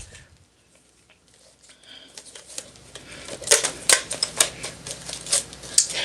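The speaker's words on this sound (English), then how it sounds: "as we just shuffle this up, pick this up" Tarot cards being shuffled up close, starting with faint handling and building into rapid riffling bursts and soft flicks of card stock in the second half.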